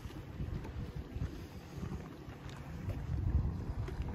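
A Skimmer Skiff 16 motorboat runs across the water with a steady low engine roar, mixed with wind buffeting and splashing, rising slightly toward the end.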